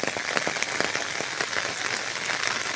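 Heavy typhoon rain from Bibinca pours on Burias Island in a dense, steady hiss, with close, sharp patters of drops striking a surface throughout.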